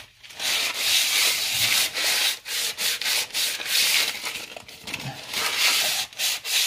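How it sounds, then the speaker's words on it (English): Steady rubbing and wiping as a bread pot lid is greased for Rewana bread, in continuous close strokes with brief pauses. "Sorry, grease the lid."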